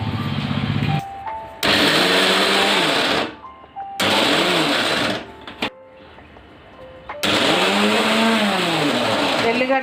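A mixer grinder whirs loudly in three close bursts as it grinds mustard powder for mango pickle, each run whining with shifting pitch and short quiet gaps between.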